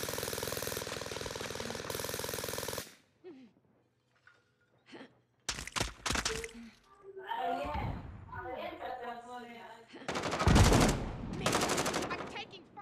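Rapid bursts of gunfire in the Call of Duty Warzone video game, loud at first, then again later in the clip among shorter shots, with someone talking over and between them.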